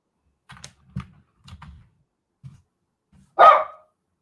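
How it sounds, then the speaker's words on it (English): A Jack Russell poodle mix barks indoors: several short, soft yips spaced apart, then one louder, sharper bark near the end, close by with no talking. "You got a dog."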